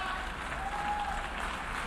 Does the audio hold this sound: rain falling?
no